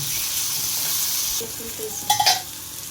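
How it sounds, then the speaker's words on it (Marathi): Onion and tomato frying for a homemade pasta sauce, with an even sizzle throughout and a short burst of clinking stirs against the pan near the end. "त्याच्यामध्ये आपण आता टोमॅटो ॲड करत आहोत"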